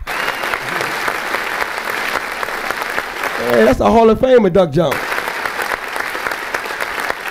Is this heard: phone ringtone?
no